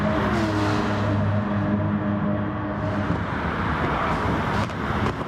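Racing cars slipstream one another down the straight at Catalunya in a GT racing game, a steady, close engine roar with a whining drone that fades into a broad rushing rumble.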